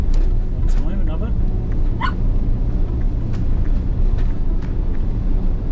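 A puppy barks in short, high yips inside a parked motorhome during high winds and heavy rain, the sharp barks standing out over a constant low rumble of wind and engine-like noise.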